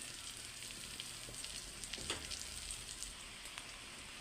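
Chopped garlic and green chilli frying in a pan, a faint, steady crackling sizzle with a few small pops, heard close and without any talking.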